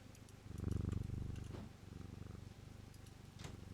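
A cat purring in the video game Strange Antiquities, a soft continuous rumbling purr with steady pulsing, faint and close, with light clicks over it.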